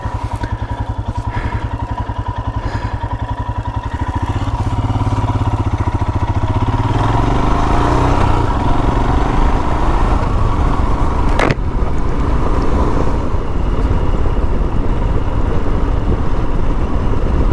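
Loud, steady Royal Enfield Himalayan dual sport motorcycle engine drone while riding, rising into a sustained roar with wind rush and a sharp click partway through.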